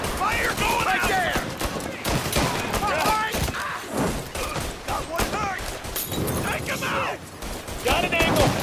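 Gunfire in a shootout from the video game Mafia: Definitive Edition, repeated rapid bursts of shots and thuds in close succession, with voices talking over the fighting.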